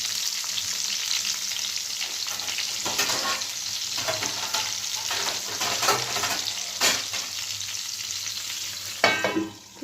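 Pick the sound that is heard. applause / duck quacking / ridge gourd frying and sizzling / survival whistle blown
ridge gourd frying and sizzling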